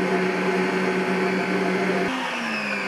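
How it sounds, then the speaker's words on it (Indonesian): Electric mixer running at high speed, speed setting 10, beating pandan sponge cake batter made with ten eggs: a loud, steady whirring drone that holds unbroken, then drops slightly in pitch near the end. "Ini langsung kita tutup, kita mixer ya."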